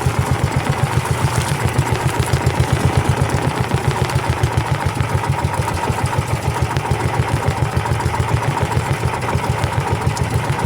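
A service boat's engine runs at idle with a steady, rhythmic chugging pulse. It is loud and close, and continues unbroken for the whole stretch.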